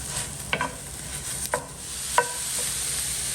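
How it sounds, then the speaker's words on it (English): Italian sausage browning in a cast iron pan with tomato paste and red pepper flakes, a soft steady sizzle under a few sharp scrapes and stirs of a utensil against the pan. "So I've been browning my Italian sausage for a few minutes."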